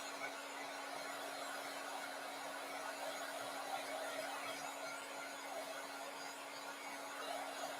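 A hair dryer blows steadily to dry glue on a craft panda, a constant loud whooshing roar with a steady motor hum that runs unbroken throughout.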